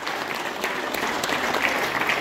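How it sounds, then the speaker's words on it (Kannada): An audience gives the event organizers a round of dense, steady applause, many hands clapping together at moderate loudness throughout without a break, with a few faint voices mixed in. "ಆಯೋಜಕರಿಗೆ ಮೊದಲು ಜೋರು ಚಪ್ಪಾಳೆಯ ಮೂಲಕ ನಮ್ಮೆಲ್ಲರ ಪ್ರೀತಿಪೂರ್ವಕ ಗೌರವಗಳನ್ನು ಸಲ್ಲಿಸೋಣ"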